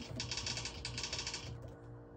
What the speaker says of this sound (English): You guys already know the drill with the typing test.